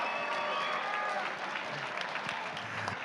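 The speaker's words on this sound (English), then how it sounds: "let's get a round of applause for both of these fighters" Arena crowd applauding two fighters after a three-round bout between Dalton Hudson and Mazin Polis, steady mid-level clapping with some crowd noise, continuous through the moment.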